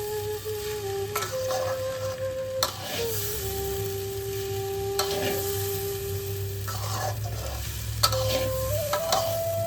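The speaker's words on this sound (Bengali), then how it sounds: "চালটাকে কিন্তু ভালো করে ভাজতে হবে। যত ঝরঝরে করে ভাজা হবে পোলাওটাও কিন্তু ঝরঝরে হবে।" Rice for pulao sizzles steadily in a hot pan while a utensil scrapes and stirs it, with a few louder clinks against the metal; no one speaks.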